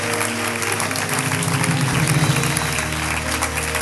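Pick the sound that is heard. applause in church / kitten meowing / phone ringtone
applause in church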